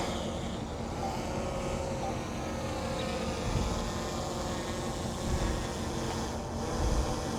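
A DJI Air 3 or Mini 4 Pro drone takes off and climbs, giving a steady, loud, close whirring drone that holds constant throughout, with a few low thumps near the end.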